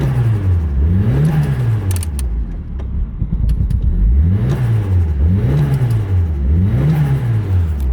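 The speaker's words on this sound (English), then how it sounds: "We put an old relic of an HKS blow-off valve on there, and it sounds pretty sick." Nissan 180SX engine fitted with an old HKS blow-off valve, revved repeatedly while still cold, rising and falling in pitch with rhythmic swells and sharp valve whooshes between pulls, loud and close.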